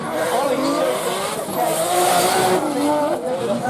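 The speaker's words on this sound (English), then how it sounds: "Look how fast that car is." Drift cars racing at Driftland in the British Drift Championship, loud engines revving and tires squealing in sustained screeches, with a commentator talking over the action.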